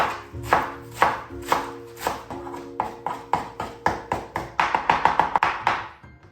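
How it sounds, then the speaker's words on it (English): A knife chops ingredients for tricolor dumplings on a cutting board in a run of crisp, evenly spaced taps that quicken toward the end, close and clear with no talking. "Now let's just chop this."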